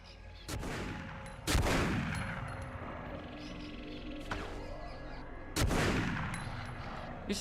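Sniper rifle gunfire in The Punisher (2005) video game, three loud, sharp shots spaced several seconds apart, each with a long echoing decay, with fainter pops between them.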